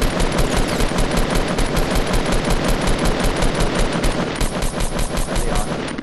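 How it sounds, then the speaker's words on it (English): Rapid automatic gunfire in the Fortnite Battle Royale video game, a dense, loud, evenly spaced burst of shots that rattles on without a break for several seconds. "They were shooting at me and then they stopped."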